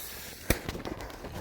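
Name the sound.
whistling rocket fireworks being launched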